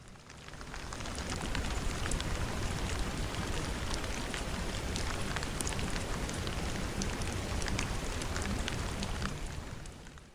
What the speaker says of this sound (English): The rain hitting the tarp, the crackle of the fire.